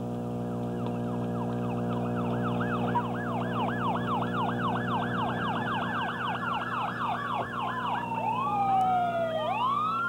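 Wailing emergency sirens sweep up and down steadily, loud and close, with a second siren pattern joining near the end over a low engine rumble.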